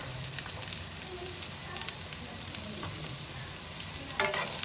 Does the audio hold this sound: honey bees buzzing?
no